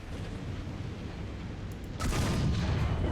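Main gun of an E-100 heavy tank with a 128mm cannon fires in War Thunder, a loud booming blast that bursts over a steady rumbling engine and battle noise.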